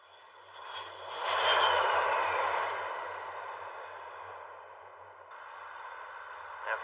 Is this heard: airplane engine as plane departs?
yes